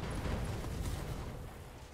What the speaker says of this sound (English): Probably an ammo explosion.